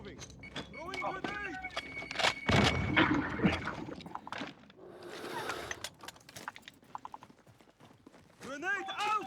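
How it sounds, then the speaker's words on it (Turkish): Footsteps in the video game Call of Duty: Warzone, a run of quick sharp steps and clatter mixed with gunfire and game noise, with players talking over it. "Ayak sesleri var çok çok yakınımızda."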